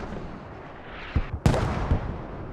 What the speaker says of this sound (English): I'm betting this is BA mortars trying to keep EWASY off